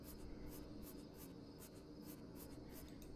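Crickets chirp in a quiet ambient scene of the adventure game Deponia Doomsday, regular high pulsed trills repeating steadily about three times a second over a faint low background.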